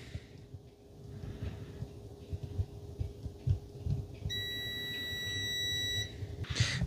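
A multimeter in continuity mode, probed across a short while repairing a DOCREATE mini spot welder, gives a steady, fairly loud electronic beep of a little under two seconds over a low background hum.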